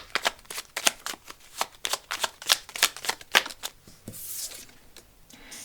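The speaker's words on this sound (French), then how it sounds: "on va aller tirer quand même quelques petites cartes pour finir" Playing cards are shuffled by hand in a quick series of crisp riffling bursts, about a dozen sharp rustles close up and alone, ending with a softer sliding swish.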